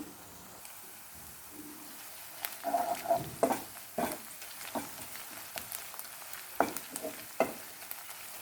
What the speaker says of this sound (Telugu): ఉల్లిపాయలు వేగుతున్నప్పుడే మూడు పచ్చిమిర్చి వేసుకుంటున్నాను రెండు దాల్చిన చెక్కలు నాలుగు లవంగాలు ఇప్పుడు వేసుకుంటున్నాను